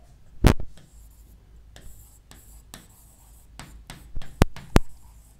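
Marker or chalk writing on a board during a biology lesson, several sharp scratchy strokes in quick bursts separated by short pauses, close and clear against a quiet room.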